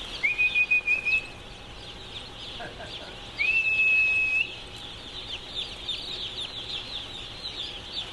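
Newly delivered chicks in a brooding chamber peep in high, chirping bursts, two longer loud calls standing out over a soft background of scattered cheeping.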